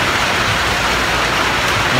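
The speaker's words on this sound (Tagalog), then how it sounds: "lakas ng ulan" Heavy rain pours steadily, a dense close hiss of drops drumming on surfaces, with no voices.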